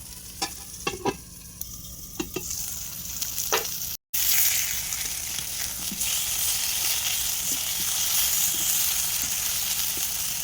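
Marinated sweet pumpkin pieces seasoned with chili powder and salt frying in oil in a pan, with a few light scraping taps before a steady, loud sizzle that continues without pause.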